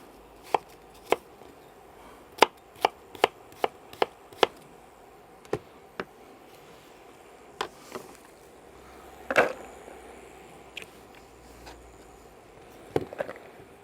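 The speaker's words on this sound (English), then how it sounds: "So a fairly fine chop, because it's going to go in a relish" A knife chops onions finely on a board for a tangy tomato and onion relish, sharp distinct knocks in uneven bursts, a quick run of strokes early on and scattered single chops after, close and fairly loud with no talk.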